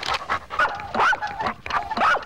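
A dog barks in loud, close, repeated bursts beside a logger chopping a tree with an axe in the woods, several sharp barks in quick succession.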